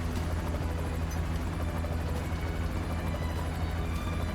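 A helicopter in the Final Fantasy VII: Ever Crisis video game drones with a steady, dense rotor and engine roar, constant and fairly loud with no talking over it.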